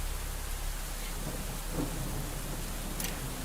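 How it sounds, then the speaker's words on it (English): Steady rainfall with rumbling thunder in the video game Ironhive, a continuous wash of rain and a low rolling rumble, heard alone without speech. "It's raining."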